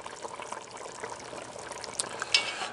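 Pork steaks in tomato sauce bubble and sizzle in a Dutch oven over a propane burner, a close, steady simmer of small pops with a few sharper crackles near the end.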